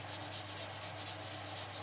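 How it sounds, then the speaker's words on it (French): Steady back-and-forth rubbing of sandpaper lightly over the bonnet of a Citroën 2CV Charleston, a soft rhythmic scratchy hiss with no talking. "on a un petit coup de papier de verre à venir passer léger"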